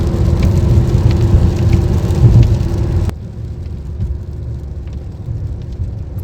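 Steady heavy rain roars close by, loud and dense for the first half, then drops to a softer, thinner patter as if heard from a more sheltered spot.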